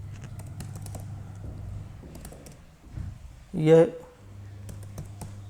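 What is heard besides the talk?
typing a name on a computer keyboard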